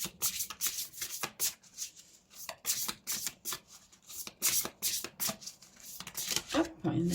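Cards from an oracle deck rustle and slide as they are shuffled and one is drawn, a close run of quick papery swishes with a person talking over them.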